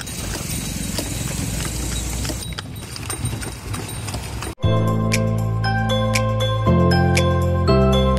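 A horse-drawn cart in Dindigul, its hooves clip-clopping in a steady rhythm with faint jingling, close and fairly loud over road noise, followed by a burst of loud music.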